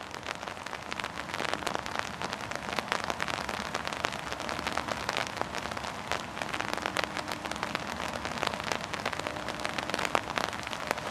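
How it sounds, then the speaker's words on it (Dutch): Steady rain falls outdoors beside the Bairau river in Austria, a dense continuous patter of drops on surfaces with scattered louder hits, fairly close and holding at an even level throughout with no talking. "En wij staan dus nu aan de overkant van de Bairau, inmiddels in de regen."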